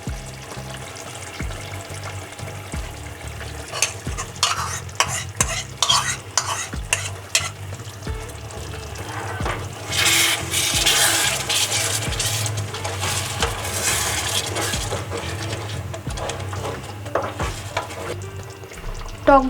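Sour yogurt goes into frying chicken curry and is stirred in: repeated spoon scrapes and knocks against the pot, then a louder surge of sizzling midway before the stirring settles, with no talking.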